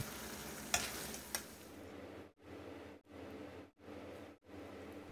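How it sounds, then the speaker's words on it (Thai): Chili paste with minced pork and coconut sugar being stir-fried in a pan: a soft, steady sizzle with a couple of sharp scraping clinks, then several short rhythmic stirring pauses, faint and close. "ผัดให้น้ำตาลมะพร้าวละลายเข้ากันเลยนะครับ"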